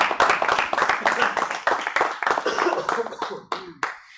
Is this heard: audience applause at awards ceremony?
yes